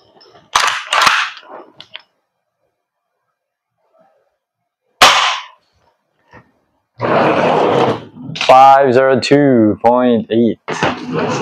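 A G&G LeVAR 15 airsoft rifle fires sharp, isolated cracks, with a pause between them, and someone speaks afterward.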